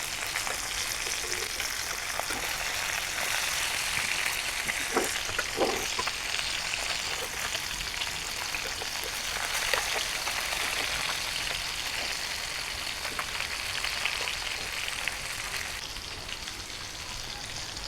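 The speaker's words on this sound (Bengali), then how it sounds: "মাছগুলো আগে পাশে ভালো করে ভেজে নিব।" Hilsa fish pieces sizzle steadily in hot oil in a home kitchen pan, a dense continuous crackle with a few sharper pops, close and alone with no talk.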